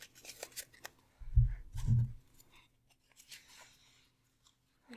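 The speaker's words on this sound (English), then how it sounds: "Shuffle these in" A thick deck of tarot-style reading cards is shuffled up close, giving a couple of quick riffling, papery bursts with a soft thump, followed by quieter rustling and handling in a fairly quiet room.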